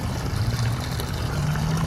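Water trickling and gurgling through a pipe on a homestead, a steady low rushing flow that stays fairly constant throughout.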